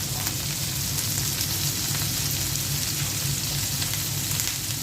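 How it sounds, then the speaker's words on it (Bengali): Prawn heads fry in a pan with a steady, even sizzle and crackle throughout, close and moderately loud, with no talk over it. "চিংড়ি মাছের মাথাগুলো দিয়ে দিচ্ছি"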